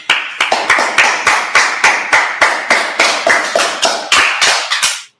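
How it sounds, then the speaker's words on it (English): An audience claps in unison, a loud, even rhythm of about three claps a second that runs steadily before stopping abruptly. "All right, let's clap it up."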